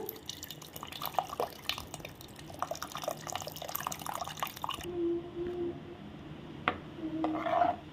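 Tamarind water splashes and trickles into a pot for fish curry with irregular pouring sounds, then quieter dripping and a few soft clinks near the end.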